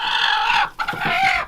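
A broody hen squawks loudly and close by, two long harsh screeches separated by a short break.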